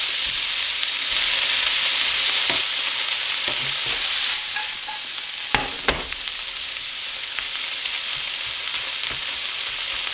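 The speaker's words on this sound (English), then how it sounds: "what we're looking to do here is caramelize the onions" Onions frying in a pan to caramelize, a steady loud sizzle with occasional scraping stirs and a couple of sharp clinks from the utensil partway through.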